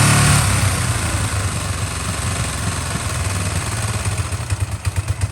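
A motorcycle engine after carburettor and ignition work roars loud and close at first, then slowly drops back toward a rough, uneven idle with stuttering pulses near the end.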